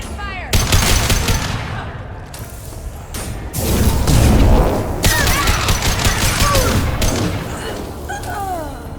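Gunfire rings out in Mass Effect 2, rapid bursts of shots in sustained volleys with mechanical clanks and booms, loud and close, with some voices in between.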